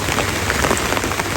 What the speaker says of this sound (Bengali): অনেক বৃষ্টি চারিদিকে।